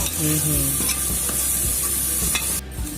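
A small-fish curry base frying in a pan is stirred steadily, with continuous close sizzling and repeated scraping strokes throughout, and no talking.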